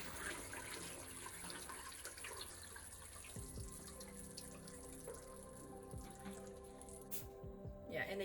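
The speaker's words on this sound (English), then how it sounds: "I will be adding some water into my pot." Water runs from a tap into a pot of sautéed ingredients, a soft, steady splashing pour with faint drips and kitchen clatter, ending in a brief louder rush of water.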